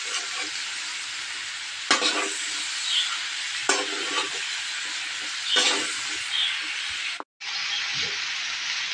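String beans stir-frying in a hot pan for Filipino adobong sitaw with ground pork give a steady loud sizzle, broken by periodic scraping stirs and a brief cutoff near the end, with no voices.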